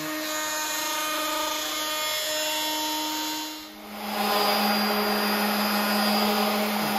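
A guitar body is sanded with 80-grit sandpaper, producing a loud, steady whirring drone that briefly dips in the middle before resuming at full strength, close and alone without talk.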